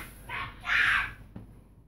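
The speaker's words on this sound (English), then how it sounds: "but we got a bird in the house" A bird trapped inside a house gives two harsh, crow-like caws close by in a quiet room, followed by a faint knock.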